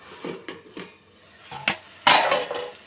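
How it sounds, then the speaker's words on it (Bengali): A metal lid comes off a cooking pot of shrimp and pumpkin-leaf paste: a few light clinks and scrapes, followed by one louder clatter as the lid lifts clear. Close by, with no talking. "একটু ঢাকনাটা খুলে দেব"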